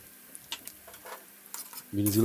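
Beans lightly frying and stirred in a pan for mixed fried rice: scattered soft scrapes and clinks over a quiet hiss, then a louder sizzle swelling at the end.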